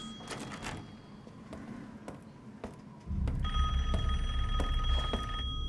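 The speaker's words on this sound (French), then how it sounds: "Il y a un téléphone qui sonne." A telephone rings inside a video game setting, sustained electronic bell tones cutting in over a low rumbling ambience, loud and close in the second half after softer earlier ringing.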